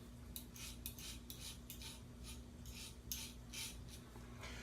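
A razor shaving, a dry, repeated rasping scrape in short strokes, close up, over a steady low hum, with no talking.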